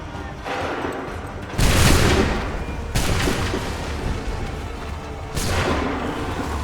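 Musket volleys fired on command in Assassin's Creed III, three loud booming bursts of massed gunfire with rolling battlefield din between them.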